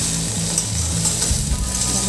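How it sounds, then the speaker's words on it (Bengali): Chopped tomato dropped into a hot frying pan, giving a steady, close, loud sizzle with light stirring throughout. "একটা বড় টমেটো দিয়ে দিলাম"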